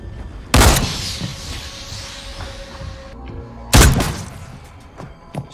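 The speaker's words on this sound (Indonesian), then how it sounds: "Hendricks melepaskan tembakan ke arah boneka angin" Gunfire in a film scene, a man firing toward an inflatable doll on a ship's deck: two loud, sharp broadband blasts about three seconds apart, each decaying quickly over a low background rumble.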